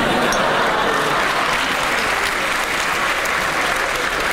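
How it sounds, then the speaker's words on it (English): Loud, dense audience applause fills the whole stretch at a steady level, a crowd clapping after a remark during a lecture on atheism and God. "You shouldn't clap really"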